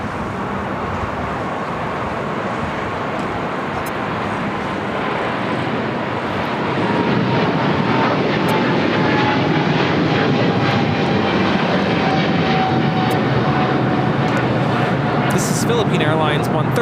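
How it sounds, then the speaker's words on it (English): Philippine Airlines Boeing 777-300ER taking off from LAX, a steady loud jet roar that swells and builds through the takeoff run, with people talking faintly underneath. "Philippine Airlines 113 taking off to Manila on a 777-300ER."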